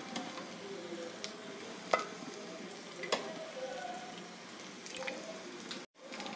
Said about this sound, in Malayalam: ഇനി നമുക്ക് വറവൊന്ന് ഇളക്കി കൊടുക്കാം